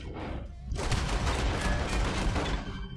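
A revolver fires in Red Dead Redemption 2, a burst of loud gunfire with sharp reports that carry on in a dense, sustained rumble for about two seconds after a brief quiet start.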